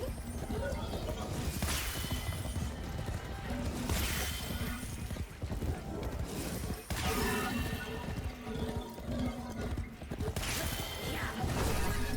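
Horse hooves clip-clopping in a video game, a continuous galloping rhythm with clatter and crashing effects, heard under a speaking voice.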